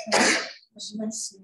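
One loud, close human sneeze bursts out at the start, followed by a short murmured voice and a soft breathy sound.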